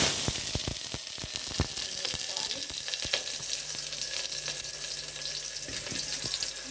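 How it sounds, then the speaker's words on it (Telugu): Hot oil sizzles and crackles continuously, with sharp popping spatters scattered throughout as tempering seeds hit the pan. "వేడెక్కాక పోపు గింజలు వేసుకోవాలి పోపు గింజలు చిట్టపడలాగాక"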